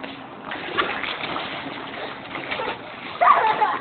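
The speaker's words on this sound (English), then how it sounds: "Show me you guys can swim all the way across the pool." Children splashing as they swim across a pool, a busy wash of water noise running throughout, with a louder burst of splashing near the end and voices faintly mixed in.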